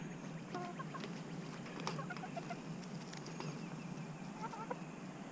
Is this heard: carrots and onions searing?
no